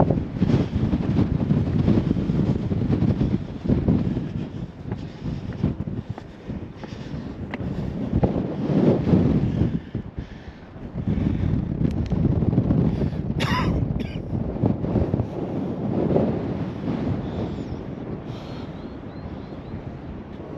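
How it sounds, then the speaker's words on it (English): Strong wind at an ancient Native American earthwork mound, rumbling and buffeting the microphone in uneven gusts that swell and fade, with a brief sharp rustle partway through. "It's very windy today."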